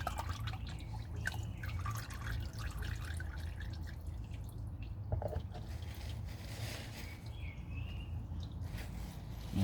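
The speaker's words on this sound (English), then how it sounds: "Let it drain." Engine oil draining from a 2013 Acura MDX during an oil change, a steady faint trickle and drip under a low hum, continuous throughout.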